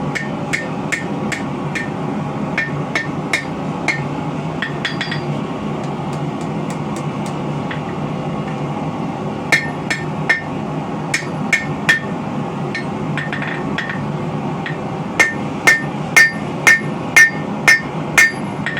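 A hammer strikes steel on the tip of an anvil horn while a crowbar is being bent during forging. Sharp ringing blows come in irregular clusters, then settle into a steady, evenly spaced rhythm near the end, over low workshop noise.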